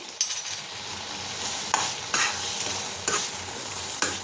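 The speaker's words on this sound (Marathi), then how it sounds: "एक 5 मिनिट आपण आता जरा त्याला हलवूया" Carrot halwa being stirred in a pan, a soft continuous sizzle with several distinct scrapes and knocks of the spoon against the metal at irregular intervals, no speech.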